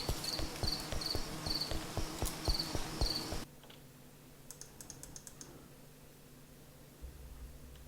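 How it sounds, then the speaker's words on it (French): Crickets chirp in a Slender horror video game built in Unity, repeating high trills over dense keyboard typing for the first few seconds, then a few fainter chirp bursts over a quiet background. "Ce bruit des grillons, j'avais pas fait gaffe."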